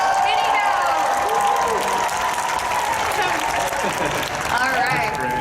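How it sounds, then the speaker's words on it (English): A convention crowd claps and cheers to vote for the first lip look, a dense, sustained ovation with whoops and shouted voices mixed in, loud and continuous throughout. "round of applause for your favorite"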